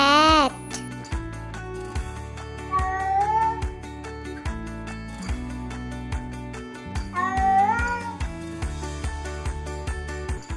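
A cat meows several times over a bright children's alphabet song with music playing throughout, the meows rising and falling clearly above the backing track.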